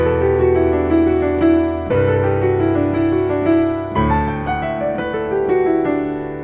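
Piano passage with swing and triplets, a phrase played high, repeated, then an octave lower, with full sustained chords and a driving melodic line, loud and close with no talking.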